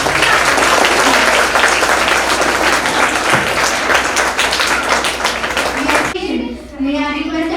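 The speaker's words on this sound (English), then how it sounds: "please join us in a warm round of applause" A large school audience at a robotics expo applauds to welcome the principal, with loud, dense clapping that runs continuously before cutting off abruptly near the end. A voice then begins speaking.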